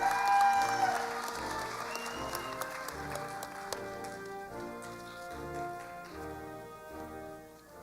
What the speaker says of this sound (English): Let's have another big round of applause for all of our 2023 graduates.